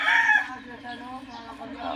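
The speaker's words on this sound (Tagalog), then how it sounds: "Ito mga manok." A rooster crows, fairly near, in a backyard, with some background noise and faint voices.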